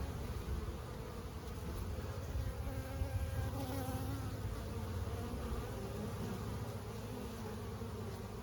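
Honey bees buzz around a hive colony in fall, a steady, dense, faint drone of many insects close by, continuous throughout with no talk.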